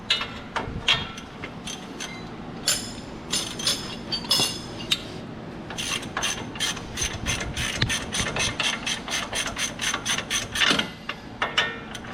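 A ratchet fitted with a 15/16 6-point socket turns a lower control arm bolt on a 2009 Ram 1500 2WD, giving rapid, close-up runs of clicking pawl ticks in bursts, loud and steady with no talk.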